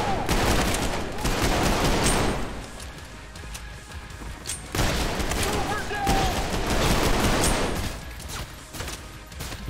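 Heavy gunfire in the shooter game Trepang2, with loud rapid bursts and sharp cracks repeating across the whole stretch, and brief talking heard under the shooting.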